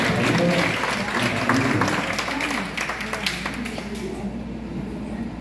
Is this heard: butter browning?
no